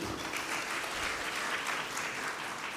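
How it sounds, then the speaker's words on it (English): A seated conference audience at a FICCI event claps together, a dense, steady burst of applause from many hands that stays loud and even throughout. "a round of applause for the audience"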